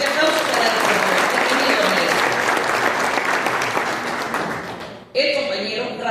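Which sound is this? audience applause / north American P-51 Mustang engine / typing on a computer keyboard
audience applause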